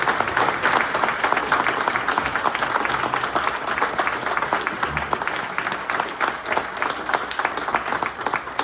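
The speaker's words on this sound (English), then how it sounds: "let's have one more big round of applause for our candidates" Sustained audience applause for candidates at a civic meeting, a dense steady patter of many hands clapping that holds evenly throughout, with a faint voice or two underneath.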